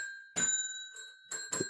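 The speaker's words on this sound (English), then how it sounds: "Oh, you do have 2 bells." A small bell, one of a pair, rings three times with bright, clear, sustained tones; the first strike stands alone and two quick rings follow near the end.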